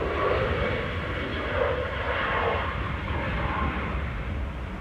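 An Emirates Airbus A380, eight years old, arriving from Dubai at Manchester Airport, gives a steady, loud jet engine roar that holds broad and even throughout with no talk over it.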